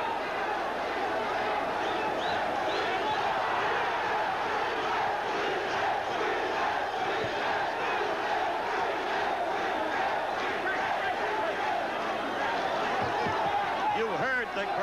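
A large boxing crowd packed into a baseball stadium at a 1979 fight roars and chants in unison, a dense continuous wall of voices filling the whole span.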